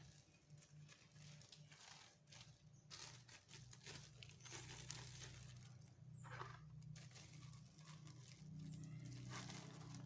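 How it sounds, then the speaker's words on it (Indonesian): Plastic sheet crinkling and rustling steadily for several seconds as it is stretched over a glass, close up, with a low hum in the background. "Setelah itu, kemudian kita tutup menggunakan plastik."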